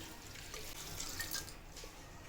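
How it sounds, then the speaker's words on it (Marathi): Water runs and splashes continuously into a cooking pot of mixed sprouts curry, a steady close-up stream with slight fluctuations and no speech. "त्या आतमध्ये आपल्याला पाणी घालायचं आहे"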